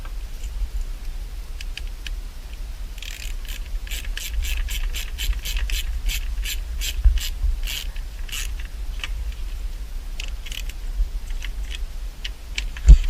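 Small screw being driven into a plastic trim switch panel on a Chevy SS sedan, giving a run of fine, quick clicking ratchet-like ticks, close and fairly quiet, with a couple of soft knocks near the end.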